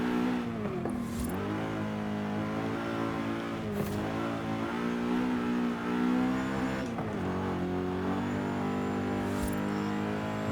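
A sustained, buzzing engine note from an S1 class car in a racing video game, held at high revs for the whole stretch with small dips as the throttle shifts, steady and loud with no talking.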